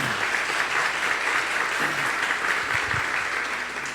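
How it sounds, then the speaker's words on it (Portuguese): Church congregation at a Sunday service clapping together, a steady, full wash of many hands sustained for several seconds with faint voices mixed in. "Vamos aplaudir Jesus em forte?"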